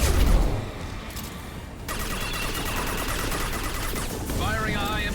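Guardian anti-ship batteries firing in Mass Effect 2, a continuous heavy barrage of rumbling cannon fire and crackling impacts sustained throughout, mixed with game effects and a voice talking over it.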